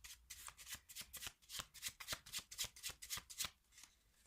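A deck of playing cards being shuffled by hand in a magic trick, giving a quick, rhythmic run of crisp riffling flutters close by, about a dozen bursts in rapid succession with no talk.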